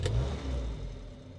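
A 1960s Standard Ensign Deluxe Estate engine catches with a short burst at the start, then settles into a steady, close, mid-pitched running rumble, heard alone without speech.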